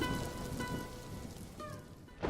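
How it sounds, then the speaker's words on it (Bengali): Heavy rain in a cartoon falls as a dense, continuous hiss, with a soft tonal layer beneath and a sharper burst at the very end. "এইদিকে বৃষ্টির পরিমাণ যে বেড়েই চলেছে।"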